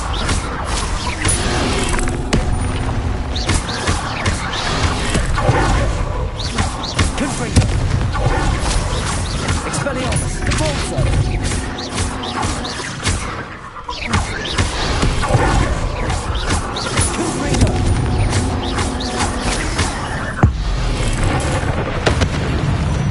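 Confringo explosion spells blast repeatedly in Hogwarts Legacy amid spell combat, loud booming bursts layered over a dense, continuous roar of action noise with a short lull midway.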